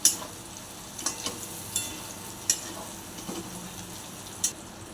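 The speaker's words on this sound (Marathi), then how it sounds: "दोन ते 3 मिनिटे वांगी तेलामध्ये परतून घ्यायची।" Eggplant pieces frying in hot oil for a spiced Marathi dish, a soft steady sizzle with occasional light pops and stirring clicks, no voices.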